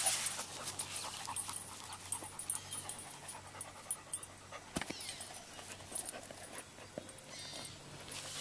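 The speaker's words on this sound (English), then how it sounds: "Oh, got a helper dog here." A dog pants quickly and steadily close by during outdoor fence repair work, with faint whimpers, over a constant hiss of background noise and no talking.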